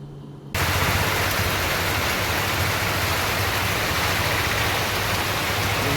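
Heavy rain pours down steadily in Palani, a dense, continuous hiss that starts abruptly after a brief quiet moment and stays loud and even throughout, with no voices.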